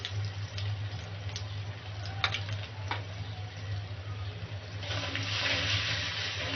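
Water is added to a ground paste of salt, dried red chilli, ginger, garlic and garam masala while cooking, a short splashing pour that swells near the end over a low steady hum.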